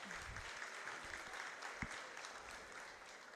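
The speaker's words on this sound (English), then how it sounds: "let's get a big round of applause for our tough class of senior showmen" At a county 4-H fair goat show, a crowd gives a round of applause for the senior showmanship class; the clapping is faint and distant, steady throughout, with a brief voice near the start.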